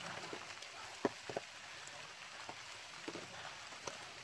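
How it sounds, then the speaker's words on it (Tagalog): Light rain patters steadily with soft hiss and scattered louder drops close by, no talking. "Umuulan po, pero hindi naman masyadong malakas."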